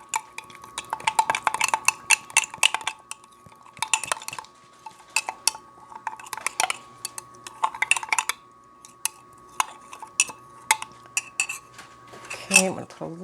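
A spoon clinks and scrapes against a cup while stirring a honey cold and flu remedy, in repeated bursts of clinking with short pauses, close and clear, without talking.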